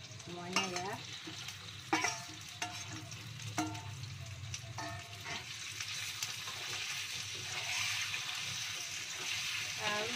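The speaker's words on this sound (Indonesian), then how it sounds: "Lalu diaduk-aduk ya." Spicy ground chili sambal with petai beans fried in a pan and stirred, giving a continuous close sizzle with sharp scraping strokes from the utensil, growing steadier toward the end.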